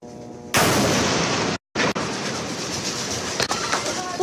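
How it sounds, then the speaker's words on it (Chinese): Explosions near Al-Shifa hospital in Gaza, with the crowd in the tent area nearby: a loud blast bursts in and rumbles on, a short gap follows, then heavy booming and crackling noise continues with sharp impacts. "不远处紧接传来更大的爆炸声"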